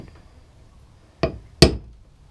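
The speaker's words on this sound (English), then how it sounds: "Next thing that we're going to do is center punch that." A center punch is struck twice on a car hood to mark a spot for a Shelby hood pin hole, two sharp metallic clicks about a third of a second apart over a quiet background.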